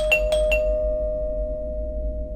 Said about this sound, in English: to the doorbell ringing twice